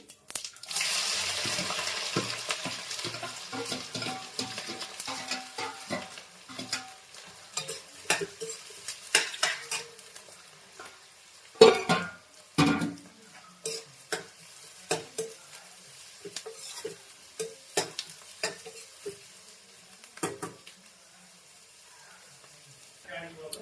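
Cumin, cinnamon, green chili and onion frying in hot oil, a soft sizzle under repeated clacking and scraping of a spoon stirring in the pan, with a louder clatter midway.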